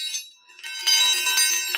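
Small metal balls clink and chime with bright, ringing tones, a couple of light taps at first and then a denser run of overlapping chimes that linger close by.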